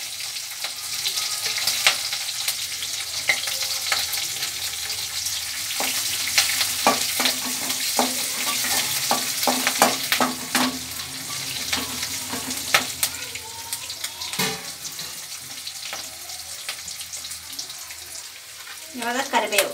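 Garlic and green chilies frying in a pan with mustard seeds, a steady close crackling sizzle with sharp pops and occasional stirring scrapes throughout.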